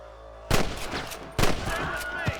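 Gunfire rings out in Red Dead Redemption: two loud, booming shots about a second apart, each with a long echoing tail, followed by a fainter report.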